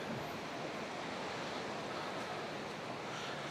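Rough sea surf washes continuously onto the shore beside a seaside promenade on Gran Canaria, Spain, a steady broadband roar mixed with wind and no speech.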